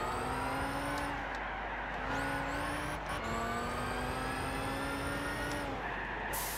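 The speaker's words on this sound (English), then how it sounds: "I'm not having much luck actually wrestling this massive vehicle around the Ascari track" A heavy car's engine drones and revs through gear changes in the Gran Turismo 6 racing game on the Ascari track, loud and continuous with a couple of brief shifts in pitch.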